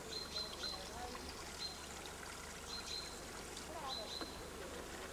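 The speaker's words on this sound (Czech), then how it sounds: "Lesní potůček." Small forest brook flowing as a steady, soft, continuous trickle and wash of water heard close by, with faint high chirps above it and no talking.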